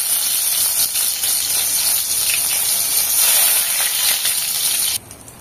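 Steady, dense sizzling and crackling of mustard seeds in hot oil, a close continuous hiss with fine popping that cuts off abruptly near the end.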